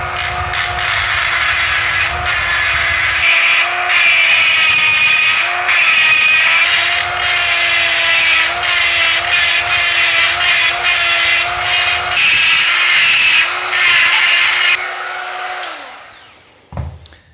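Milling cutter shaping a transfer port in a Vespa PX 200 engine case, a loud, steady high-pitched grinding whine with wavering tone that runs continuously for about sixteen seconds before spinning down to silence.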